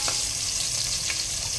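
Curry leaves and tomato sizzling in hot oil for a tempering, a steady close crackling hiss that holds throughout with a couple of brief brighter pops.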